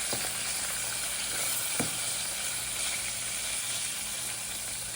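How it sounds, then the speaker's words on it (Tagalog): Aromatics sautéing in a frying pan, a steady, continuous crackling hiss with a couple of sharper pops, close and fairly loud, no talking. "Then, igisa ko na yun. So, lagay ko na yung pang-igisa ko na pangka."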